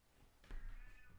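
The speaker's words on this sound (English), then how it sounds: "You may hear my cat howling in the background." A house cat howls and meows in the background, a single drawn-out wail from another room upstairs, fairly faint and alone over quiet room tone.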